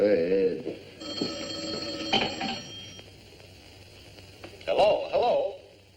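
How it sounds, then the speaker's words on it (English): An old telephone bell rings in a sitcom scene. It gives a sustained, bright ring of a couple of seconds, with voices and room sound before and after it. "I think I better answer that phone."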